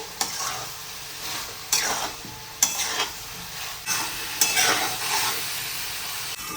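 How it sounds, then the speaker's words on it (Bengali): Spiced vegetables stir-fried for veg biryani, a constant sizzle broken by several sharp scraping strokes of a spatula at regular intervals, close and with no talking. "মশলাটা ভালো করে কষিয়ে নিচ্ছি।"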